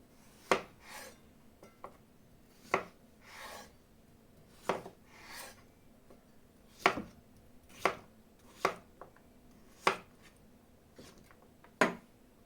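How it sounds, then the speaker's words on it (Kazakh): A knife chops onion and potatoes into small cubes on a board for borscht, with crisp irregular knocks spaced about a second apart, close and clear against a quiet kitchen background. "Картопымызды майда төрт бұрышты етіп турап шығамыз."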